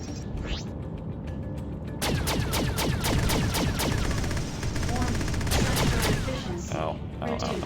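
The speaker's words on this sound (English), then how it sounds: "I'm just getting missile spammed to death" Rapid bursts of missile and weapon fire hitting the player's ship in the space game Freelancer, a dense crackling barrage of sharp impacts and launches, with excited talking over parts of it.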